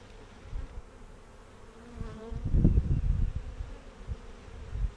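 Honeybees buzz steadily over a hive frame during an outdoor beekeeping lesson, with a close, swelling drone that grows louder in the middle and then eases off.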